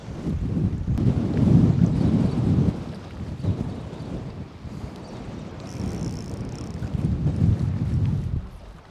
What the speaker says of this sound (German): Ist das windig.